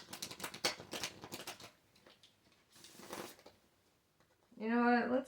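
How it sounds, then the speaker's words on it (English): Tarot cards shuffled by hand in two bursts of rapid, crisp riffling close by, with a pause between them, ending with a short voiced sound. "I was shuffling that for a reason."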